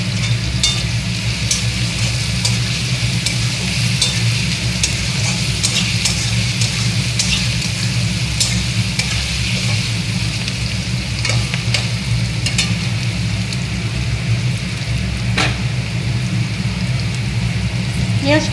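Onions frying in a pan for chicken curry, a loud continuous sizzle and bubbling with faint scattered clicks of a spoon throughout.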